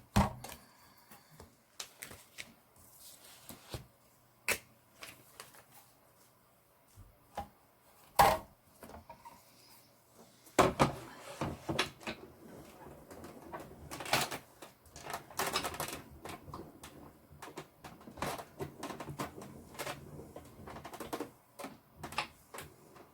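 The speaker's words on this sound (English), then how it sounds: "I'm just going to die cut with it" A die cutting machine presses through a taped die, giving a run of sharp clicks and clacks in an irregular rhythm, close and fairly quiet, with bursts of denser knocking in the middle and near the end.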